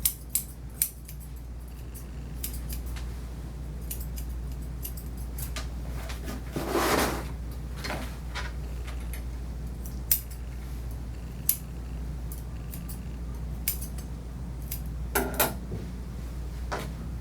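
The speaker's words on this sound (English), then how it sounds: "So I'm going to brush the hair up here and the toes forward and up so I can just trim that out." Scissors trimming the toe hair of a poodle mix during grooming, with scattered quiet snips and small handling noises across a long, soft stretch.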